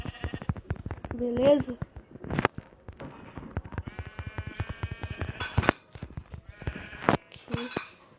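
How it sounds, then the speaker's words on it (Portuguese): Sheep bleat repeatedly in a survival video game village, several short nasal calls close by amid clicking game sounds, with someone briefly speaking Portuguese over them. "Ô louco, cheio de ovelha aqui"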